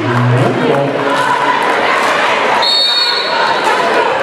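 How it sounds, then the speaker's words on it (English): Crowd noise and chanting at a Baltimore City girls' basketball championship game, Poly versus Western, with two cheerleading squads going back and forth, loud and continuous with a whistle partway through. "We got two cheering teams out here, man. They really going at it right now."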